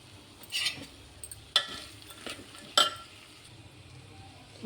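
Chana dal masala curry stirred in a pot after salt goes in: quiet, sporadic scrapes and a few light clinks of the spoon against the vessel, spaced apart over a low background.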